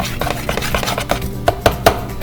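Swedish pancake batter being mixed in a bowl, a quick series of close, fairly loud taps and scrapes of a utensil against the bowl, with no talking.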